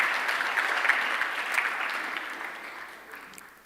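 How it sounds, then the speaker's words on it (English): A hall audience at a FoodBev Manufacturing SETA annual general meeting applauds the organisation's employees, a fairly soft, distant patter of clapping that slowly thins and fades out. "I think we should give them an extra round of applause."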